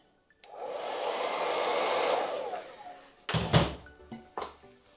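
A hair dryer blows steadily for about two seconds while styling a wig, then cuts off, followed by a few close thumps and knocks.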